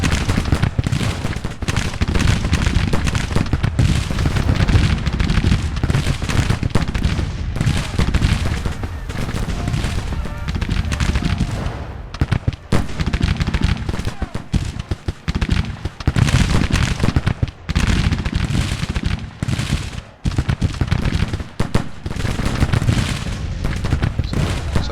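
Massed musket and cannon fire from troops in the Grand Tactician battle game, a continuous crackling fusillade of overlapping shots with heavier booms, loud and sustained, with a few brief lulls.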